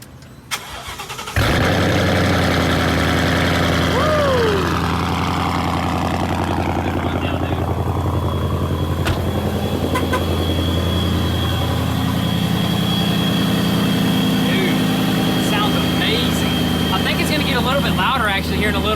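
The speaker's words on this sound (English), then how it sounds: "It sounds amazing with the Pro Charger kit and the Army Tricks exhaust." A 2018 Jeep Trackhawk with a ProCharger kit and aftermarket exhaust cranks to life after a brief click, then settles into a loud, steady idle with a whining supercharger tone, while people talk nearby.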